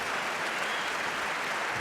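An audience at a debate on religion breaks into applause, a dense, even burst of many hands clapping that fills the whole moment with no pause.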